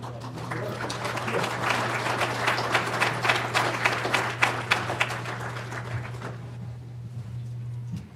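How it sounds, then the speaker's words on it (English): A crowd at a Douglas County commissioners business meeting claps steadily and warmly for several seconds, the applause loud and close with a low hum beneath, thinning out toward the end. "There's no prompting for applause with this, guys."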